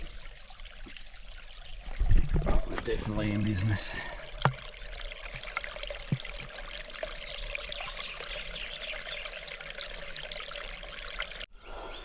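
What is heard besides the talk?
water trickling from a stream on a hiking trail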